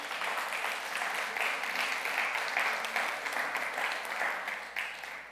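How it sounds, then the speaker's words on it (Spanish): A church congregation applauds for the King during a sermon, sustained dense clapping that holds steady for the whole stretch and fades slightly at the end, with no talking over it. "Dale un fuerte aplauso al Rey."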